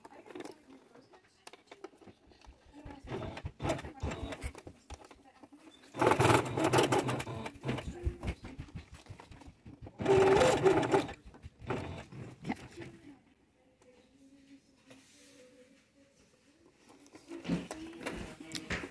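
A sewing machine stitches a swim skirt in bursts: loud rattling runs of needle strokes alternate with quieter stretches of fabric handling and soft clicks.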